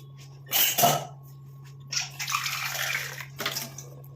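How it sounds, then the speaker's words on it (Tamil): Water poured in short bursts into a tea powder mixture before grinding, a brief splashing pour followed by a longer trickling stream and a final short splash, close and clear over a faint steady hum. "கொஞ்சமாக தண்ணி ஊற்றிக்கோங்க"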